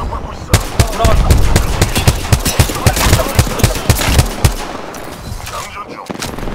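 Rapid gunfire rattles through a firefight in the video game Apex Legends, loud close bursts of sharp repeated shots that thin out and stop toward the end, with game voice lines mixed in.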